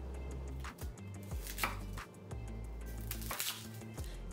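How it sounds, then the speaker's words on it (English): Knife chopping jarred grilled artichokes on a cutting board for spinach artichoke dip, a handful of soft, irregular cuts close by with quiet squishy thuds. "I'm going to show you how to chop it up"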